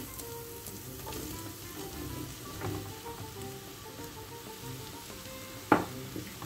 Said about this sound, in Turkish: Soğanımızı ve biberimizi kavurduktan sonra doğranmış mantarımızı ilave ediyoruz.